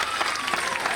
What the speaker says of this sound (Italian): Un applauso più concreto